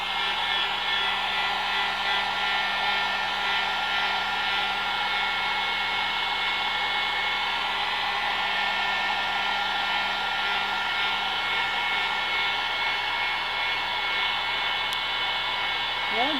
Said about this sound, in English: Sorry for all the heat gun noise.